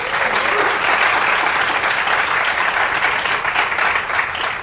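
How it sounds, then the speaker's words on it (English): An audience at a concert of contemporary folklore-themed music breaks into a full, dense round of applause that holds steady throughout, loud and continuous. "Can we please give them a round of applause?"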